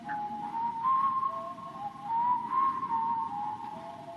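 Clear, melodic whistling from a song traces a gentle tune of several sustained and gliding notes, soft and fairly close, alone without any voices.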